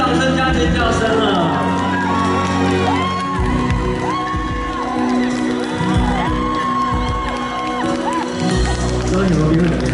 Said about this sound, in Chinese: 大家给自己掌声加尖叫声了